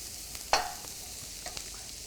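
Vegetables stir-frying in a pan, a steady low hiss of sizzling with a single scrape of a utensil and a couple of faint clicks, close and fairly quiet.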